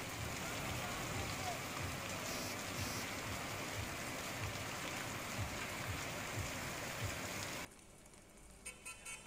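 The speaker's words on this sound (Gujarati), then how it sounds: "બપોરે 3:30 થી 4 વાગ્યા સુધી અનરાધાર વરસાદ પડ્યો" A heavy afternoon downpour falls in a steady, loud wash of rain on surfaces, with a faint vehicle horn, before cutting abruptly to a quieter scene with scattered distant sounds.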